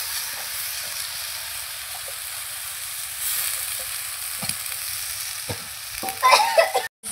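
Ash gourd frying in a pan, with a steady sizzle and hiss throughout, occasional soft scrapes of stirring, and louder clattering stirring near the end.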